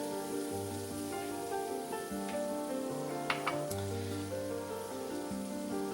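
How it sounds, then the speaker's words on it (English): A sweet onion sizzles steadily in a hot pan, a continuous close frying crackle with a few brief sharper pops and no talking. "I'm just going to get this to sizzle for a minute."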